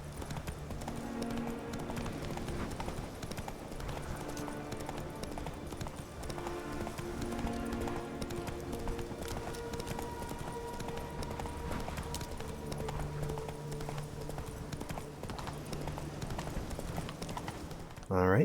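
Horse hooves clip-clop steadily in The Witcher 3 while the player rides toward an abandoned site, the rhythmic footfalls running under continuous game music and ambience.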